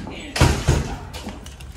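A door bangs shut with a heavy thud, then rattles briefly and settles, close and loud, while someone speaks nearby.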